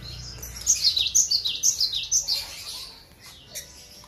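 A white-rumped shama (murai batu) chick calls in a series of high, bright chirps over about three seconds, fairly close, then a couple of fainter notes, with no talk.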